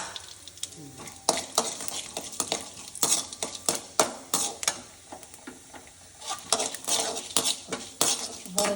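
Cumin, urad dal and mustard seeds temper in a couple of spoons of hot oil in a village kitchen, crackling and sizzling as a spoon repeatedly scrapes and clinks against the pan in quick irregular bursts.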